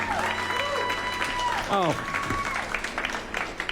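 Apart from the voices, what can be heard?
audience applause for twenty one pilots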